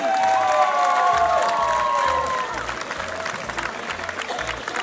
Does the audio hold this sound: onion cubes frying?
no